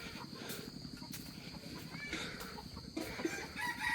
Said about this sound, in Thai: โอ้ไก่เพิ่น